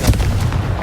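A Confringo blasting spell exploding in Hogwarts Legacy, one loud, deep, close boom with a rumbling tail, heard alone.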